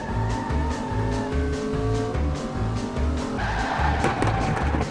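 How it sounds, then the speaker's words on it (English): A car brakes hard at a driving school and its tires skid over a continuous engine roar. The skid sounds loud and close throughout, with no voices. "I have to slam on the brake after I see the light"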